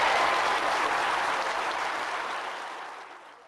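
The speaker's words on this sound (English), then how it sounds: "that still sends goosebumps down my spine when I hear that cheer" A large audience at the Field Museum of Natural History in Chicago bursts into loud cheering and applause that gradually fades away, with no talking over it.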